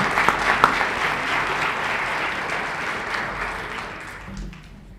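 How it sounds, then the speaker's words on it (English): Applause from an audience at a school district board of trustees meeting, a dense steady wash of many hands clapping that fades toward the end with a few scattered last claps. "Let's give Isaiah another round of applause"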